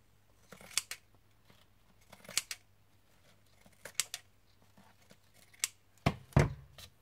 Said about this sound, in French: On vient couper ce qui dépasse au cranteur.